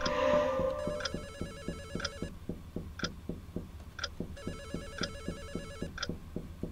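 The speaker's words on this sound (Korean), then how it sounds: "전화 소리는 어디서 저렇게 계속 들리는데?" A telephone rings in a Korean horror game, a repeating electronic trill in regular bursts with sharp clicking pulses between them, fairly close and alone with no talk.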